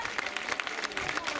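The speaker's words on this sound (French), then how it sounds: "On l'applaudit une nouvelle fois" Audience applause at a 2014 La Flèche Plédranaise cycling podium ceremony, brief steady clapping from a crowd for a rider, with a voice faintly over it.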